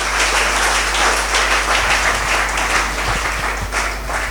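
Applause from a church congregation fills the space with dense, sustained clapping and a little crowd noise, loud and close, with no break.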